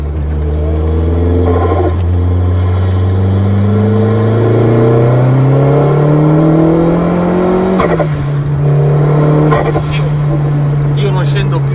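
A turbocharged 1990s Renault Clio 16V engine revs hard and climbs in pitch through the gears, with a brief shift drop before pulling again, loud and close.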